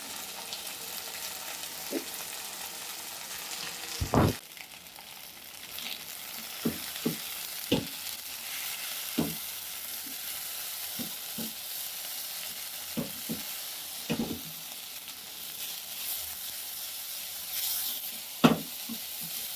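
Boiled noodles stir-frying for vegetable hakka noodles, a constant soft sizzle broken by sharp clanks and scrapes of a utensil against the pan at irregular intervals, close up with no speech.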